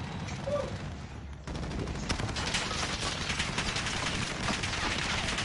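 Rapid gunfire in a video game, dense bursts of shots continuing almost nonstop at close range, briefly dipping before resuming at full intensity.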